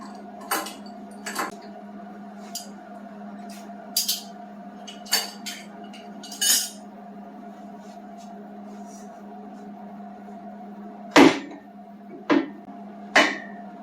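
Sharp metallic clanks and hammer blows ring out at irregular intervals, close by, over a steady mechanical hum, while someone works to free the hydraulic cylinder from the arm of a skid-steer.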